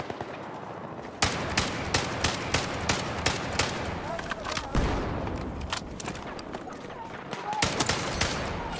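Video game shooter gunfire rattles in repeated bursts and single loud cracks, sharp automatic volleys spread across the stretch, with players talking over the shooting.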